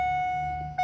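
Ford Focus door/key-in-ignition warning chime sounding as a steady electronic tone with harmonics, held throughout and briefly re-striking near the end, close and clear over a low engine-bay hum.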